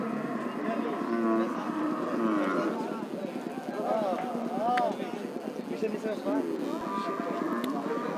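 A cow lows several times amid the crowd noise of a busy city cattle market in Rajshahi, with people talking throughout.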